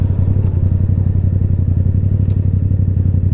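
Motorcycle engine running loud and steady while riding on the road between Davison and Lapeer, a continuous close-up exhaust drone with a fast rhythmic pulse and no speech over it.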